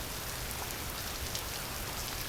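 Rain falls on surfaces in a dense, even hiss of countless drops, steady and constant throughout, with no talk or other sounds.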